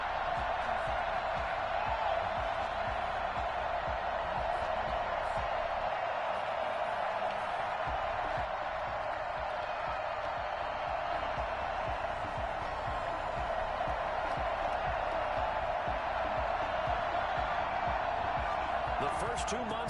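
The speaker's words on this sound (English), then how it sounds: "this crowd is ready to go" Stadium crowd in a Madden NFL football video game, a steady broad roar of cheering that holds for the whole stretch, heard beneath a commentator talking.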